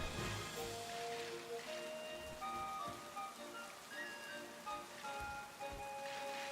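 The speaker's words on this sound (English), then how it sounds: "Doesn't help that over here it's raining" Steady, faint rain patters in the Pokémon Sword video game, a soft continuous wash of drops with light tonal game sounds drifting over it.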